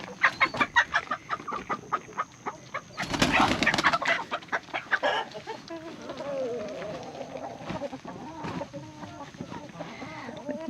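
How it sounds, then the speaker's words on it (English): Chickens cluck repeatedly nearby in quick bursts, with a flurry of louder squawking partway through and a person talking softly over them. "I think the chickens found the bugs"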